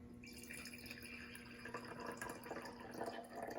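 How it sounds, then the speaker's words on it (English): Hot water trickles into a glass jar in a faint, continuous pour with light splashing and dripping, heard alone in a quiet room. "pour your hot water 1/3 of the way into"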